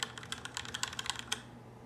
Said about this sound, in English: Razer Black Widow gaming keyboard right over here. Quiet as hell.